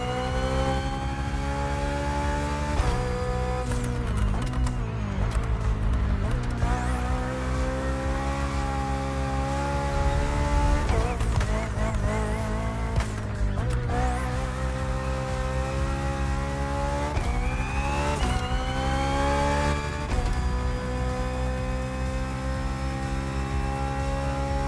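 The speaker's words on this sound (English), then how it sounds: "The hybrid V8 will do the rest." A hybrid V8 BMW race car in the Motorfest video game drones loudly and continuously, its engine note rising and dropping through repeated gear shifts as it accelerates.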